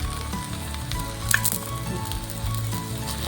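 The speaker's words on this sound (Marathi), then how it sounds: "तर मी बघा मस्त एकदा भाजून घेते याला." An aloo lachha paratha roasts on a pan over low heat, giving a steady close sizzle and crackle of frying throughout, with a faint clatter partway through.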